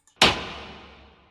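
A big, atmospheric snare drum sample drenched in reverb cracks once like a gunshot, its loud hit trailing into a long fading tail.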